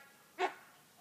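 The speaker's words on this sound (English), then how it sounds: "Sorry about my dog in the background." A single short dog bark somewhere in the background of a quiet indoor room, fairly faint and over almost at once.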